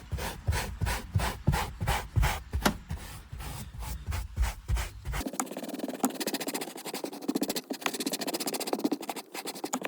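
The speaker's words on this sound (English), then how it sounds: "agitate and rub it in with a little nylon brush here" A small nylon brush scrubs DIY upholstery cleaner into a fabric car seat. It starts as rhythmic back-and-forth strokes, then turns into a faster, steady brisk rubbing, close up.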